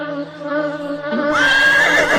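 A horse neighs loudly and close, a harmonic whinny that rises into a shrill, buzzing finish, heard alone over a brief two seconds.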